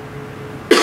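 A single short burst of a cough near the end, loud and close after a quiet stretch.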